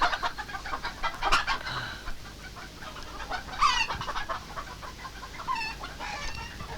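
Chickens cluck and squawk in a steady, busy chorus at an egg shop, with several birds calling close by and overlapping in irregular bursts and no voices over them.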